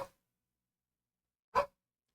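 Two single dog barks, close and distinct, separated by a long silent gap.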